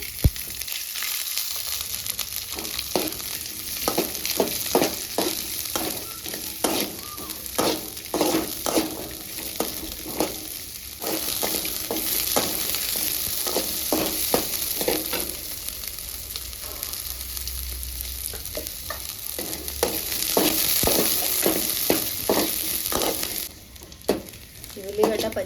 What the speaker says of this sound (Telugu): పచ్చిమిర్చి ఫ్రై అయిందండి